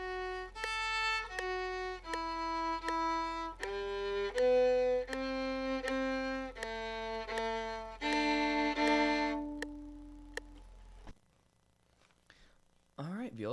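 A viola sounds a slow series of sustained bowed double stops on open D and first-finger A, each note change clearly separated, played alone at close range for about eleven seconds before stopping.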